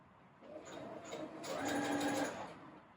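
Pedal-driven sewing machine stitching fabric in a quiet room, a soft steady whirring run that speeds up and grows louder midway, then eases off.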